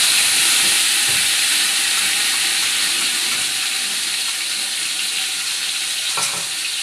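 Onion and nut paste hits a hot pot with a loud, steady hiss of frying that holds for several seconds, with a couple of faint stirring knocks near the start and end.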